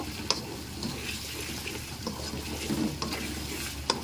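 Diced tomatoes and onions fry in a pan with a soft, continuous sizzle, broken by occasional sharp clicks and scrapes of stirring.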